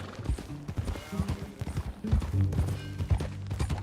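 Horse hooves clip-clopping in Red Dead Redemption 2, a steady rhythmic walking gait on hard ground, close and clear, with low in-game ambience and no speech over it.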